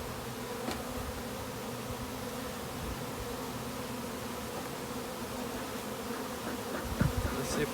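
Honey bees buzzing around frames while a split is hived into a box, a steady close swarm hum with a brief sharper knock near the end, no talk.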